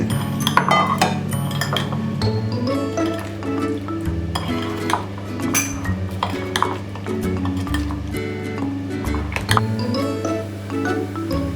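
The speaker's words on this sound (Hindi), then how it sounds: "अब इसमें हम अपने पनीर के पीसेस और अपनी सब्जियों को सबको इसमें मैरिनेट करेंगे अच्छी तरह" Paneer pieces and chopped vegetables being tossed and mixed in a marinade for a paneer sizzler, with a steady run of clinks, scrapes and squishy stirring against a bowl over a constant low background hum.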